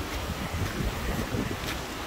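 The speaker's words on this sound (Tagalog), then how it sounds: "Grabe ang hangin, no?" Strong gusty wind roars loudly and continuously across the microphone outside a school in Waipawa, New Zealand, a dense rumbling buffet with no voices.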